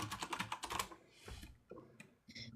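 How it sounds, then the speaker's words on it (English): Rapid keystrokes on a computer keyboard clatter in quick bursts, then slow to a few scattered taps with short pauses, close and fairly clear with no talking over them. "Who's typing?"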